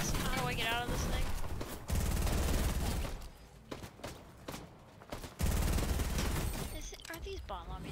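Rapid bursts of automatic gunfire in an online shooter, loud and close, with sustained volleys, a lull of scattered shots, then more heavy firing, while a player talks over it.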